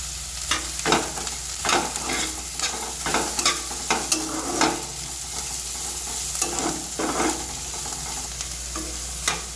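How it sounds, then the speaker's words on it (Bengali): Capsicum and onion fry in oil in a pan, a continuous near sizzle broken by frequent sharp scrapes and clacks of stirring, with no voices. "ক্যাপসিকাম পেঁয়াজ সব কিছু ভাজা হয়ে সুন্দর তেল ছেড়ে দিয়েছে।"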